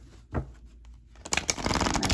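A deck of tarot-style pick-a-card cards being shuffled, a brief soft riffle followed by a quiet pause, then a louder, rapid flurry of card flicks close to the microphone.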